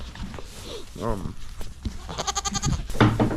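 Goats settling into a new winter pen bleat several times, close by, amid ongoing talking from people nearby.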